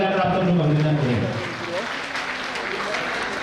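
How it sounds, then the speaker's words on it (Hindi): A crowd at a temple consecration festival breaks into loud applause. Someone speaks over the opening moments, then the clapping carries on alone as a dense, even roar. "आपका भी जोरदार तालियां बजाकर आप सब लोग अभिनंदन करें"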